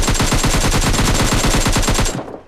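Automatic gunfire in PUBG Lite rattles out as a rapid, loud burst of evenly spaced shots lasting about two seconds before cutting off abruptly into a brief fading tail.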